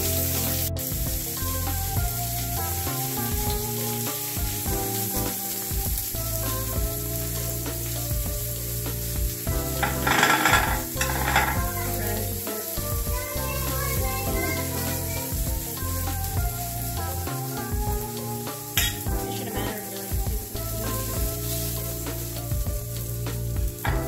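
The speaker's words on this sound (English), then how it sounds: "Yeah, you're just searing it. You're just giving it that crispy outer layer." Chicken wrapped in prosciutto sears in a hot pan, giving a steady, loud sizzle and crackle throughout, with occasional stirring and spatter bursts and no talking.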